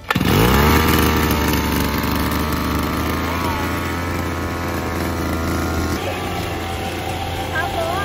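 A RONIX 4553 brush cutter with a nylon line trimmer head cuts short grass outdoors, its small two-stroke engine buzzing loud and steady throughout, with voices talking faintly underneath.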